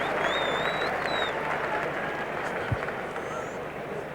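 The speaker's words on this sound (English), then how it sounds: "Huskis going off to loud applause." A stadium crowd applauds a substituted player leaving the field at a 1999 Australian rules football match between Brisbane and St Kilda, a broad, distant roar of clapping under a commentator's voice, with faint whistles.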